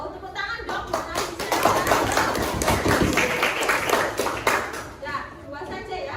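Classroom students clap their hands in a scattered burst of claps and taps that swells and then thins, with a teacher and children talking over and around it.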